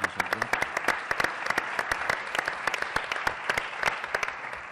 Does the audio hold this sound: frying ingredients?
no